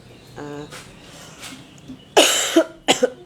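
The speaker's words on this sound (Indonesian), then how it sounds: "Aku batuk." Two loud coughs close to the mic near the end, following a short stretch of quieter vocal sounds.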